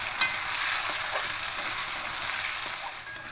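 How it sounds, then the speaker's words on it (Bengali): Paneer cubes frying lightly in hot white oil in a wok, a steady bright sizzle with faint crackles running throughout, close and fairly even in loudness, with no talking. "একটু হালকা করে ভেজে নেব।"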